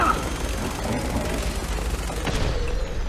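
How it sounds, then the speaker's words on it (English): Explosions in Fallout 4 with a Silent Hill mod, heard as dense, rumbling booms and crackling blasts that roll on continuously, with some talk underneath. "there's explosions in pitch black darkness"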